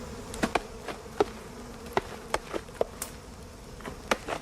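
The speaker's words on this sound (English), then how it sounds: "it chokes any remaining wasps." A steady wasp buzz hums throughout near the headwaters of the Orinoco, with a series of sharp taps and knocks scattered irregularly over it, close by.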